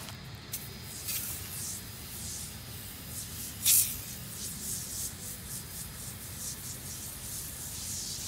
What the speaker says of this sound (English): So I'm gonna go ahead and spray this while I'm at it.